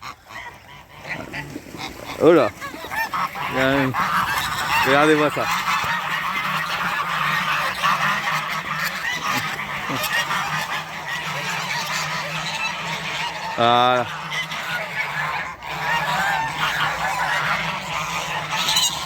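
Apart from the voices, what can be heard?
geese honking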